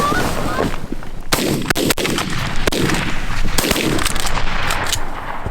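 Shotguns firing during an early-season goose hunt in New York, several loud sharp blasts close by in quick irregular succession over a steady outdoor background.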